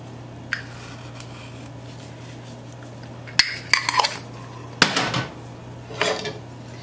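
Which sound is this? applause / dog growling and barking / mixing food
mixing food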